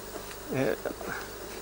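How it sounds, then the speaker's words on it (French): Honey bees buzzing around hives on a plateau, a short close hum that swells and fades over faint background noise. "Là, c'est parce qu'il y a beaucoup d'abeilles sur le plateau."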